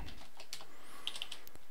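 Fingers tap a computer keyboard in short irregular bursts, close and fairly quiet, with a few sharper key strikes standing out.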